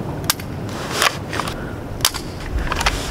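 Several sharp, snappy gunshots from a gun loaded with cheap ammo crack outdoors in the countryside, spaced irregularly about a second apart over a steady background hiss.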